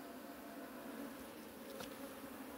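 Bees buzz in a dense, continuous hum during a honey harvest from a hive, faint and steady with no voices.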